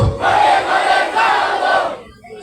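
A large crowd chants the takbir slogan in unison at a religious rally, loud and sustained across two drawn-out chanted phrases before dropping away.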